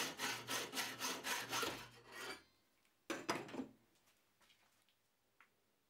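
A hand saw blade, guided by flat steel strips on an aluminium profile, cuts square tubing in a quick run of rhythmic back-and-forth strokes, then stops; a few shorter strokes and faint scrapes follow, close and clear.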